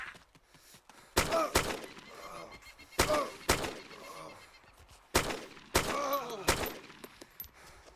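Loud weapon gunfire in the video game DayZ, several heavy single shots in pairs, each with a sharp crack and a rolling echo tail, heard close over quiet ambience.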